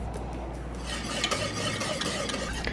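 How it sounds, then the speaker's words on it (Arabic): A spoon stirs thickening cheese sauce for mac and cheese in a pot, a soft continuous scraping and gentle bubbling, fairly quiet and close with no voices. "نحرك"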